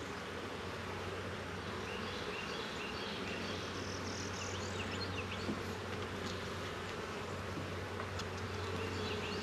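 Honeybees buzzing around a hive while being fed, a dense continuous hum of many insects close by, steady and even throughout with no talking.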